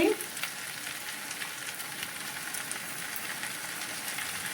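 Chili and turmeric powder with spices for a mourola fish and cauliflower curry frying in a pan, a steady close hiss of sizzling oil with a brief clink at the start.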